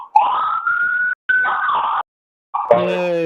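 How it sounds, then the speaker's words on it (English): Sirens wail in rising and falling tones, loud and near, cutting out briefly before a final burst. "Yay, sirens."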